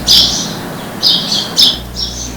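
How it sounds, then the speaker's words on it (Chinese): Loud, harsh bird squawks repeat close by in the early morning in the mountains of Sanxing, Yilan, four sharp bursts with short gaps between them. "虫鸣鸟叫"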